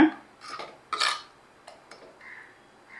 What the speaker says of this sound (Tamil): தீயை ஃபுல்லு கொண்டு வந்து இதை நல்லா கலந்து விட்டுக்கோங்க